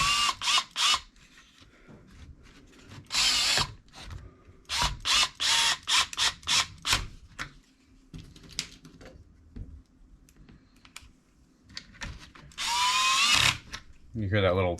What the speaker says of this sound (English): You hear that little click click noise? That is the clutch inside of this that spins free to prevent screws from cracking.